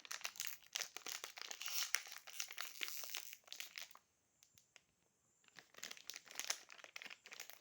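Plastic wrapping crinkles and crumples as a package is unboxed, close and fairly quiet, in uneven bursts with a short pause midway and no talking.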